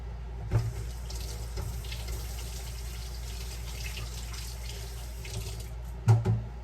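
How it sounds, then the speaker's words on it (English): Tap water runs steadily at a sink during hand washing, a faint continuous splashing with a couple of louder knocks near the start and end. "Sorry, I had to wash my hands."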